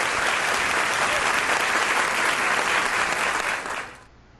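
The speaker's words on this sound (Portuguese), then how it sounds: "Vamos dar um forte aplauso que elas merecem" Strong, dense applause from a church congregation at an inauguration service in Chia, Colombia, honoring the sisters, sustained and loud before fading out near the end.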